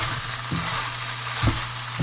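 Beef stew is stirred in a pot with a soft, steady sizzle and a few low scraping knocks of the spoon against the pot, close and with no talking.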